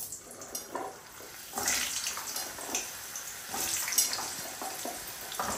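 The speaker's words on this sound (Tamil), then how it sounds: "இப்போ வந்து நெல்லிக்காய் போட போகிறேன்" Gooseberries (nellikai) drop into hot oil to fry, giving faint, uneven watery sizzling and crackling bursts that swell and fade at close range.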